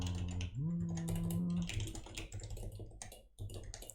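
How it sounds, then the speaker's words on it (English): Blind typing on a computer keyboard, a busy run of soft key clicks layered over a loud sustained hum and tone, with no clear voice present. "I'm actually typing absolutely blindly."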